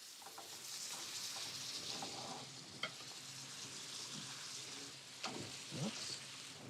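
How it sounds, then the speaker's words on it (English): Chicken rollatini sizzling in a pot deglazed with wine, a steady soft hiss with occasional utensil clinks and scrapes, fairly quiet and continuous, no talking. "I always put the wine first. It deglazes the pot and the alcohol evaporates."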